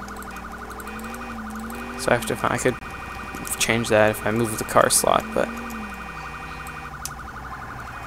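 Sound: emergency vehicle siren in video game GTA IV

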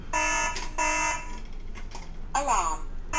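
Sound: Hikvision AX Pro alarm system sounding after door opened

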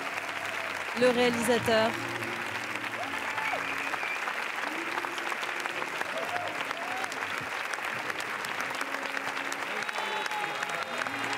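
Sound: audience applauding in the Cannes theatre

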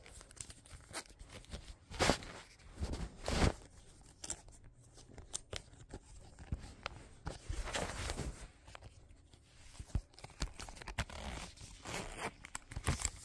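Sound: zipper of a Care Bear Loungefly wallet opening

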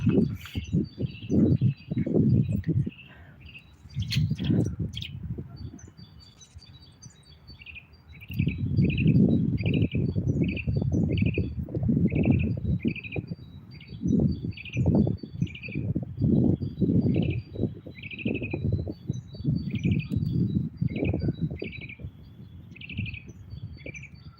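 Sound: bird singing

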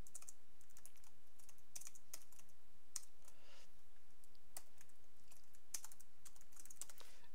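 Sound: typing code on a computer keyboard

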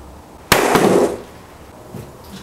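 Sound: hard drive dropped on floor

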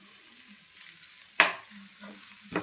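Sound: stirring goat tripe fry with masala in a pan

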